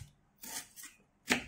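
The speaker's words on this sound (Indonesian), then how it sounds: "Nah, ini kita potong nipis-nipis lah." Knife slicing a large onion thinly on a board, giving three soft, crisp cuts at irregular intervals, close but quiet.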